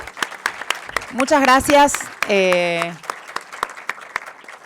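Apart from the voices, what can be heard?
audience applause for Sole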